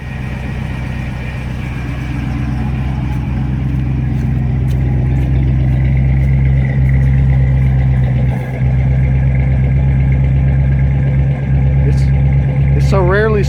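A carbureted car engine idles on its own after a cold start on a winter day, with a loud, steady low rumble close by, while people talk over it.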